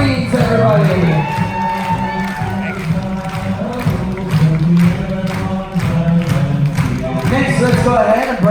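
A cruise ship crowd at a veterans' appreciation party bursts into loud cheering, whoops and clapping for the Marines, a dense continuous roar with shouting voices and music underneath.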